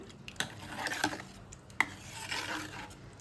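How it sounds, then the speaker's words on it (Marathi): Dal being stirred with a spoon after crushed coriander and garlic go in, giving soft scraping swirls with a few sharp clinks of utensil against the pot. "हे मस्त असं मिक्स करून घेऊया आपण"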